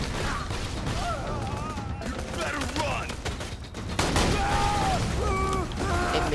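Rapid gunfire from the video game Borderlands 2 crackles steadily under game voices and chatter, with a sharper, louder volley partway through.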